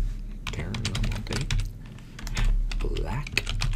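Rapid typing on a computer keyboard, a dense run of close key clicks going on steadily under a voice that talks throughout.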